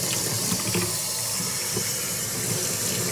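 Hot water gushes from a tap into a sink, a steady close splashing hiss without pause.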